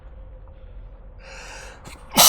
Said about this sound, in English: I don't know why all of a sudden I'm sneezing like crazy